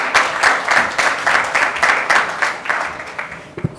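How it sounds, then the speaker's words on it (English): An audience at a quick-service restaurant marketing conference applauds steadily for nearly four seconds, a dense wash of clapping that holds loud and then fades slightly toward the end. "A big round of applause"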